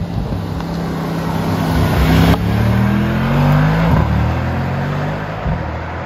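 A Mercedes-AMG E63 S estate's engine revs and settles in a low, muffled drone in comfort mode, with a few throttle blips rising and falling; heard close up, no voices.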